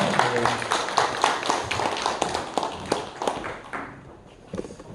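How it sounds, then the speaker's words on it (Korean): A church congregation claps together during a Sunday worship service, a dense run of overlapping hand claps that fills the room, loud at first and then thinning and fading toward the end. "박수 한번 하시겠습니다."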